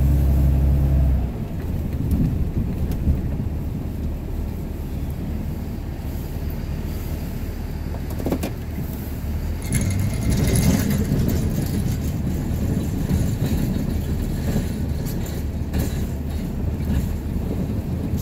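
Ram 2500 pickup pushing snow with its plow, heard from inside the cab over icy, bumpy ground left by freezing rain: a continuous heavy low rumble with scraping and occasional thumps, loud throughout.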